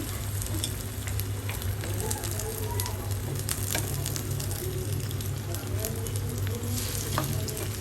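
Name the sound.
frying brinjal fritters (beguni)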